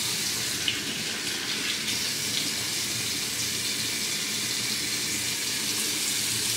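Water running steadily from a tap during a face wash in a bathroom, a constant close hiss and splash that stays even throughout, with no talk.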